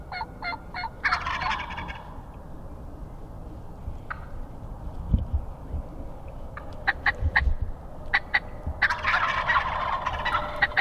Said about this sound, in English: the birds kind of hang up, and they're gobbling at me